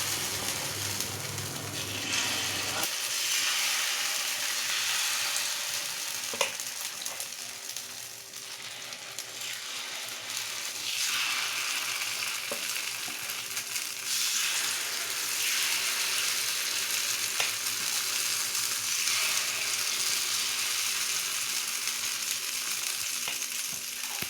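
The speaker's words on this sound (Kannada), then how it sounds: "ಈಗ ಹದವಾಗಿ ರೆಡಿ ಮಾಡಿಟ್ಟುಕೊಂಡಿರೋ ಹಿಟ್ಟನ್ನು ಪಡ್ಡು ಜಾಗಕ್ಕೆ ತುಂಬಿಸಿ" Paddu batter sizzles steadily in an oiled paddu pan, a broad continuous frying hiss close up that runs throughout with no talking.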